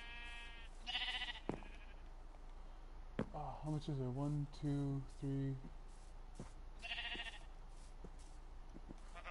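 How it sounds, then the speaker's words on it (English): Sheep bleating in the video game Minecraft, a few wavering baa calls in a short burst mid-stretch amid clicks and chops, with a player talking briefly. "I'm gonna kill 2 of these sheep and hopefully one of them drops 2 wheat or 2 wool"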